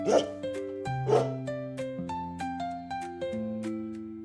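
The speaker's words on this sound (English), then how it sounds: "Max barks, woof, woof." A dog barks twice, a second apart, in a children's garden story, the sharp yaps sitting over a bright, stepping musical backing.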